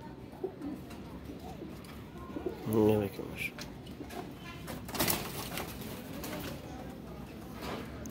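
Pigeons at a loft in Kasur coo in a short, throaty burst near the middle, with softer bird calls scattered around it while someone talks over them.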